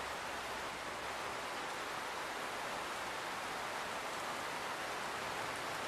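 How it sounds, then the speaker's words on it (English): Steady, dense rain pouring down across a Rome street scene in Unreal Engine 5.4, a continuous even hiss with no breaks and no voices. "you can see how the rain is coming down."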